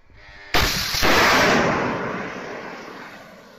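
A single loud, close burst of heavy gunfire aimed at an Armenian helicopter cracks suddenly, then a booming echo rolls out and fades slowly over a few seconds.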